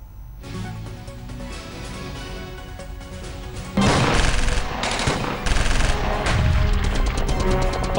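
Cross-border retaliatory gunfire between Indian BSF troops and Pakistani Rangers crackles in dense, rapid bursts, growing louder and heavier midway with sharp overlapping reports.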